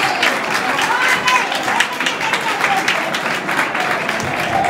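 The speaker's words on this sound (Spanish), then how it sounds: "David Pérez, un aplauso." An audience at a municipal conference hall applauds steadily, a dense wash of many hands clapping close and even throughout, with a voice faintly audible underneath.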